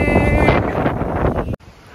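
Gusty wind buffets the microphone outdoors in light rain ahead of Hurricane Ian, loud and roaring, then cutting off abruptly near the end.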